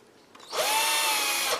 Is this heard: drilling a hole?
yes